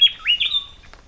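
A resplendent quetzal gives a short, clear call of rising and falling whistled notes, heard close and alone against a quiet background.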